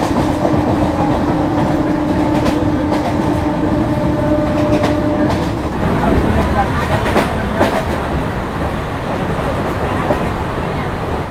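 A Digha to Howrah local train rumbles steadily along the rails, with loud, continuous wheel noise and rhythmic clickety-clack heard from inside the carriage, a faint voice or two mixed in.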